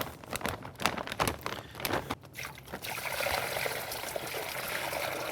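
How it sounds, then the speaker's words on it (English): Brine poured into a bag holding beef ribs: irregular splashes and rustling at first, then a steady trickling pour of liquid that continues to the end, close by, no talk. "The only tricky part is getting the brine into the bag."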